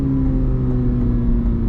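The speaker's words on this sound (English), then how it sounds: "and you can hear the burble" A BMW M4 Competition xDrive with a 900 hp tune cruises on light throttle, its engine giving a steady low drone and hum with a faint whine layered on top, close and continuous, with no gaps or sharp revs.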